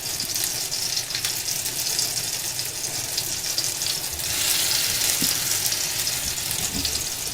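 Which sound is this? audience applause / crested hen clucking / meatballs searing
meatballs searing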